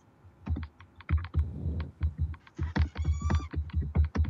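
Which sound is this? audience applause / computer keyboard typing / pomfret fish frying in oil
computer keyboard typing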